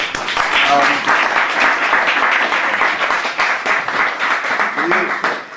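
An audience at a lecture with John Waters applauds in a dense, continuous wash of clapping that stays loud and even throughout, with voices rising faintly through it.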